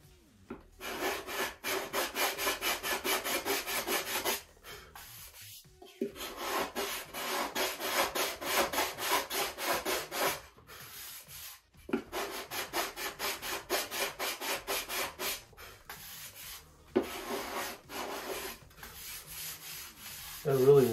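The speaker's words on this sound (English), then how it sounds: "where the edges of your sanding bar is." A sanding bar rubs back and forth on the balsa fuselage of a Top Flite 60-size P-40E Warhawk model airplane, with close, rhythmic rasping strokes in long runs broken by brief pauses.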